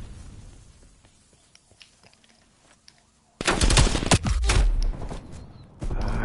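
Gunfire erupts in Call of Duty: Black Ops Cold War, with faint footsteps and quiet movement first, then a sudden loud burst of rapid automatic shots, a short pause, and another close volley.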